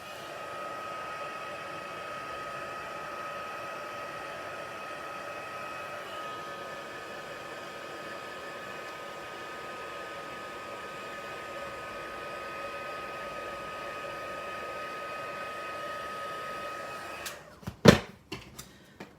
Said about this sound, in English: I might actually just quickly flick it with the heat gun.